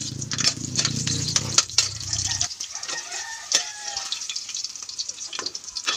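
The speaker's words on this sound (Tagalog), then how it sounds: "Prito po muna itong bell pepper." Bell pepper frying in a pan for beef caldereta, giving a steady close sizzle with clatter from stirring, louder at first and then settling into a softer, crackling fry.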